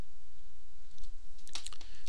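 A short burst of typing on a computer keyboard, a few crisp key clicks close by near the end after a quiet hiss, with no voices.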